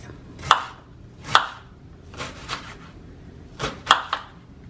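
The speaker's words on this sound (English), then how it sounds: "to get started on chopping the onions, I'm just going to chop them up like this" A knife chopping onions on a cutting board, several sharp close knocks in an uneven rhythm with short pauses between cuts.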